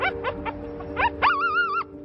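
A dog pulled out of poured tar with an excavator whimpers and yelps in short rising cries, then gives a longer sustained whine, close and fairly loud with a steady hum underneath.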